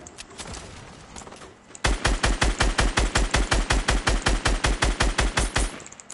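Gunfire in the Fortnite video game as players shoot at a base: a few scattered shots, then a loud, rapid automatic burst of around two dozen evenly spaced rounds over four seconds, fading out at the end.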